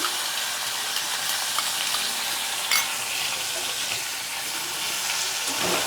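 Onion and chili paste frying and being stirred in a pan, a steady loud sizzle throughout with faint scraping of the spoon and no talking.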